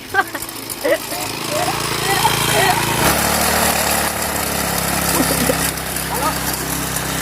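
A grass cutter engine runs continuously while cutting grass around a house, a loud, near, buzzing drone with slight rises and dips, and a person talks over it.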